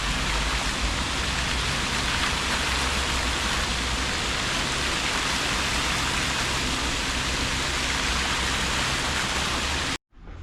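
The Fountain of Union in Bratislava, a large fountain with a flower-shaped centre, sends a steady, dense roar of splashing water, close and unbroken, ending abruptly at the very end.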